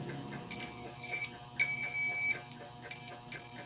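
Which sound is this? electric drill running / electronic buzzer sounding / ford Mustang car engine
electronic buzzer sounding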